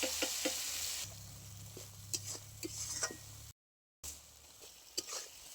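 Onion, ginger and green chili sizzle steadily while frying in a pan for a fish curry, with a few clinks of a utensil stirring, and a brief gap of silence partway through.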